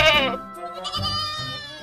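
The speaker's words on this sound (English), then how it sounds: "G for goat." A goat bleats in a children's phonics alphabet song, a short wavering cry up front followed by a lower, softer bleat, set against light musical backing.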